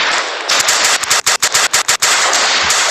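Sustained automatic machine-gun fire in a Roblox World War I battle game, loud and close, a dense rapid burst with a few brief gaps of rhythmic rattling before it resumes continuously.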